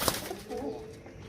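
Domestic pigeons from a loft in Gujrat, Pakistan, give a short soft coo with a faint flutter, close by and alone.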